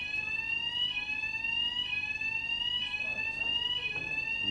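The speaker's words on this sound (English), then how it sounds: "fire alarm going off in the hotel" Hotel fire alarm sounding continuously, a steady high electronic tone repeating in regular pulses about once a second, moderately loud with faint room background and no speech.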